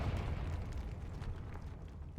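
Confringo spell blast in Hogwarts Legacy, a dense rumbling fiery explosion that fills the whole moment, loud and sustained with crackling texture and no clear pauses.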